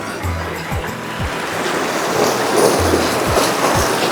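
River water rushes loudly and steadily around someone wading across a river on a riverside picnic. The rushing is close-miked and constant, broken by occasional low thumps and splashes.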